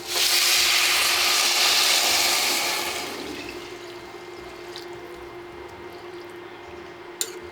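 Water pours into a hot pot of lentils and rice for mujadara, first as a loud, rushing splash with hissing steam for about three seconds, then settling into a quieter simmering sizzle, with a sharp clink near the end.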